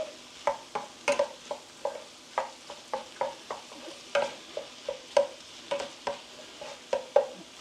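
Spatula scraping and stirring lettuce wrap filling with homegrown green onion in a pan, a steady run of close, regular scrapes and clacks over a soft sizzle.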